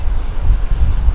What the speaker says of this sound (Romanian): Din cauza că e vântul